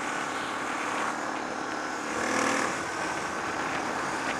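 Motorbike ride through the New Forest in southern England on a cold day, a steady broadband roar of engine and wind buffeting the microphone, swelling briefly midway.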